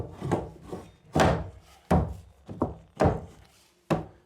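Wooden floorboards being laid in a summerhouse knock together in a series of about seven dull, hollow thunks at an uneven pace, close and clear with nothing else around.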